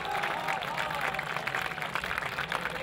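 An audience at an Urdu poetry mushaira in Karachi breaks into dense, sustained applause, many hands clapping at once in a lively crowd wash, with a voice carrying over it.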